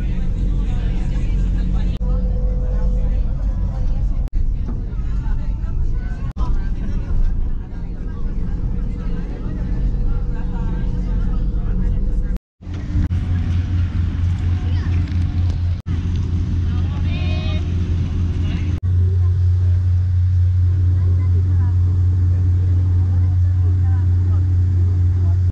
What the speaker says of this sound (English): we're on this bus right now, headed to the plane